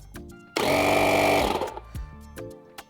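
A tire inflator air compressor pump starts with a loud, rapid mechanical buzzing burst for about a second, then cuts off, leaving quieter clicks and shuffling noises nearby.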